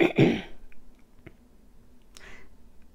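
A man clears his throat once, close and loud, followed by a few faint clicks and low room noise.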